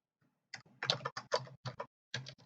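Computer keyboard typing commands in quick bursts of close, crisp keystrokes with short pauses between clusters, quiet and alone.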